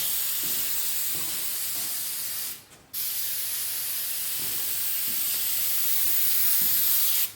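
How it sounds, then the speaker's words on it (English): Steady hissing spray from an aerosol can, running continuously apart from one brief pause partway through. "we're going to go ahead and give these guys a quick little spray"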